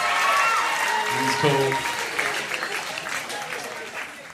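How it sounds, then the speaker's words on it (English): Audience applause at a live interview event, a broad wash of clapping from a crowd that fades over a few seconds while a voice speaks briefly over it. "Give me a round of applause for that."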